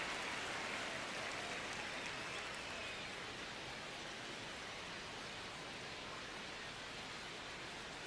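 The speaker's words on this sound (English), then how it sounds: "crowd getting settled here at Dodger Stadium" Baseball crowd at Dodger Stadium during an Angels versus Dodgers game, heard as a steady, distant, hissing wash of crowd noise that holds evenly throughout, with no clear talking.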